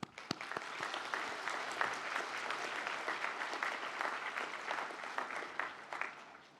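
Audience applauding graduates at a University of London presentation ceremony, a dense, steady wash of many hands clapping that fills the hall for several seconds at moderate level.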